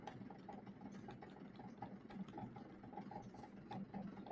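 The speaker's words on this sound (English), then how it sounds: "That is the air conditioning in the room I'm in." Room air conditioning hums faintly and steadily in the background, a soft continuous drone with a slight rhythmic pulsing and no voices.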